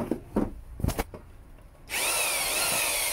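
Electric drill set to plain drilling mode, boring into a piece of wood: a few short taps and bumps, then a steady, loud, continuous whirring grind from about two seconds on, with no talking.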